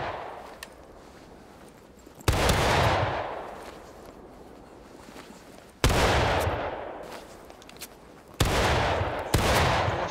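Musket volleys in the Civil War game War of Rights, four loud, close crashes of massed gunfire spaced a few seconds apart, each rolling into a fading echo, with scattered single shots in between.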